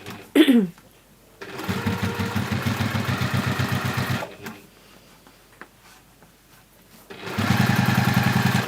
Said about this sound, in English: folding that under and then just top stitching down